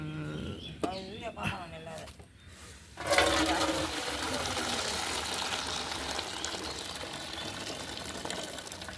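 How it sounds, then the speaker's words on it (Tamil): A voice hums briefly, then water pours and splashes steadily as it is strained off cooked jackfruit, continuing for several seconds. "தண்ணியை வடிகட்டிட்டு"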